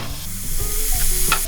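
Minced meat sizzles and crackles steadily in a hot frying pan, with a little stirring and scraping close by.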